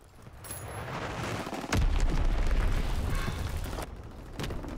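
Bombs dropped on a World War II battlefield in Call of Duty WWII on PC explode, a sudden heavy boom rolling into a long rumbling roar after quieter background noise, with a smaller blast near the end.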